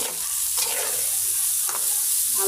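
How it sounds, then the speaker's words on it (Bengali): Dal lentils fry in oil with turmeric and green chili, giving a steady close sizzle with a few scraping stirs of the spoon, alone and without talk. "হলুদের গুঁড়ো আর কাঁচামরিচ দিয়ে ডালটা কষিয়ে নেব ভালো করে"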